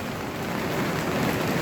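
Steady rain falling outdoors near a food truck, a dense continuous patter on surfaces at moderate loudness, with no speech.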